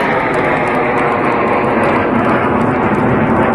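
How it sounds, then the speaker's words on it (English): A steady, loud roar of Sukhoi Su-30 fighter jets passing overhead at India's 2021 Republic Day parade, broadband and continuous with no pauses. "there you can see 3 Sukhoi 30s. Watch the aircraft now pull up"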